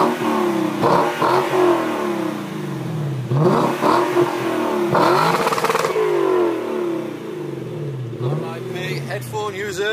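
A car engine starts and revs repeatedly through its exhaust, loud and close, rising and falling in several throttle bursts with some clattering, while people talk over it outdoors at night near a corn maze.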